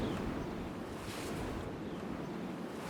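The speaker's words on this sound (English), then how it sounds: "it is really windy today" Strong wind gusts buffet the microphone on the Jeju Island coast, a steady, loud roar that runs through the whole stretch with no voices.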